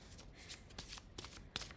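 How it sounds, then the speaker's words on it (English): Oracle cards being shuffled by hand, a quick series of soft riffling and slapping bursts, close and fairly quiet, with no voice. "I'm going to shuffle some more."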